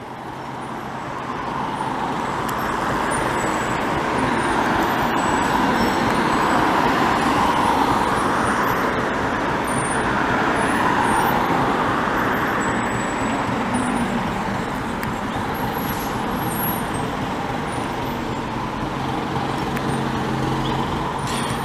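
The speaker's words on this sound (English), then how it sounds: "cars are ruining the experience" Busy street traffic in Montreal rumbles steadily, with engines of cars and heavier vehicles such as coaches passing nearby and a brief hiss like air brakes.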